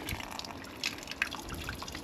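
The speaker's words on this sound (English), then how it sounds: "Outside tap won't turn off properly." Water drips from a faulty outside tap that will not turn off properly, a few faint, sparse drips over a steady outdoor background hiss.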